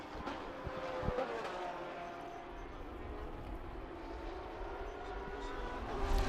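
GT race cars at full throttle at Road Atlanta during an SVRA sprint race, a steady distant engine roar sustained across the whole stretch with crowd-like ambience and no clear talk.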